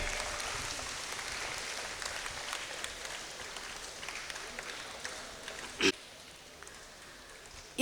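A hall audience at a college Tamil and computer applications department event gives moderately faint applause that gradually dies away, followed by a few isolated bumps near the end.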